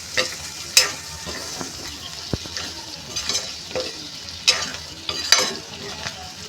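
Spiny gourd sabzi with cumin, coriander and chillies stirred in a pan, the spoon scraping in scattered close strokes over a faint steady sizzle, with no voices.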